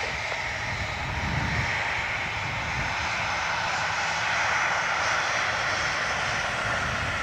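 A steady aircraft engine roar at Dublin Airport fills the whole stretch, even and fairly loud without a clear rise or fade.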